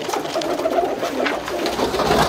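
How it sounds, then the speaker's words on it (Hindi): Pigeons cooing steadily in soft, overlapping low calls, close by, with a faint background hum throughout. "मेरे कबूतर है, एक से एक कबूतर है।"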